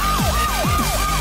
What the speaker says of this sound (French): C'est quoi ce bruit? Une sirène d'alarme?